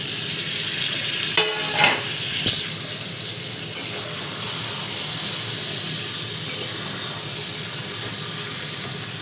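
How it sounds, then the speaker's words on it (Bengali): Fried fish and potato pieces sautéed in masala in a pan, a close steady sizzle with a few clattering stirs and scrapes near the start, and no one speaking. "এবার আমি এই মাছ আর আলু ভেজে রেখেছিলাম এগুলো দেব, দিয়ে আবারও কষাবো ভালো করে।"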